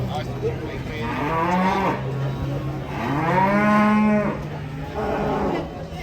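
A cow moos loudly and repeatedly at a cattle market, three long, drawn-out lowing calls close by, with low background rumble.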